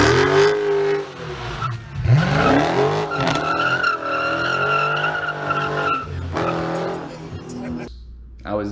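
A Jeep Wrangler 392 with its naturally aspirated 6.4-liter V8 revs loudly through the exhaust, the engine note rising and falling in sustained pulls that stay close and dominant for nearly the whole stretch before briefly easing.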